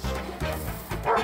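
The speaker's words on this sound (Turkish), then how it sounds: "Köpek var oğlum, köpek." Dog barking in a tense indoor comedy scene, a burst of yaps and bow-wows repeating over about a second, loud and close, with a higher yelp at the end.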